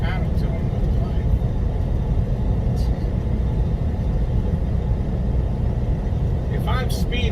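A truck roars past on a 70 mph highway, heard from inside a moving truck cab as a steady, loud low-frequency rumble and road drone lasting throughout, with faint higher whooshes near the end.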